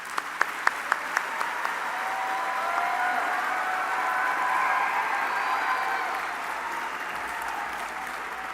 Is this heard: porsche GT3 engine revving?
no